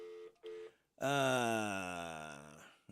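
A telephone number is dialed on a radio broadcast: a couple of short dial tones come first, then a long, bright, sustained tone that slowly fades, heard clearly and without talk.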